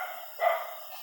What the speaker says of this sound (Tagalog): So yung aso tol, hindi yan tatahol pag walang nakikitang tao.